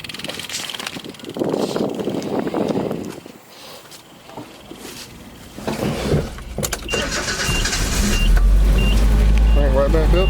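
An abandoned 1982 Nissan 720 King Cab mini truck engine cranks and then catches, building into a loud, rough running drone by the end, with some talk and clanking from work on the truck early on.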